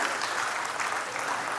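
A ceremony audience applauding, a steady, dense wash of many hands clapping at even loudness throughout, heard from within the hall.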